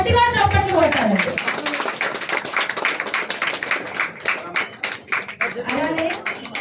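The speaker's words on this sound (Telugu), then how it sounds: "అందరూ ఒకసారి గట్టిగా చప్పట్లు కొట్టాలండి." An audience at a showroom grand opening ceremony claps and applauds steadily for several seconds, a dense patter of many hands, with someone speaking over the start and end.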